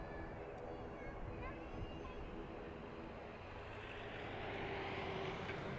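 An ATR turboprop airliner arriving at Dublin Airport, a steady distant engine drone with propeller hum that swells slightly toward the end, heard outdoors with low background noise.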